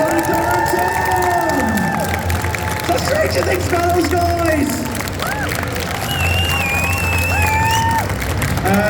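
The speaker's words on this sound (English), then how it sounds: "give them a big thanks. Give them a round of applause" A convention crowd at a Stranger Things comic con in Brussels cheers and shouts for the show's actors, with excited voices, whistles and some clapping in a large hall, while a presenter calls out over the noise.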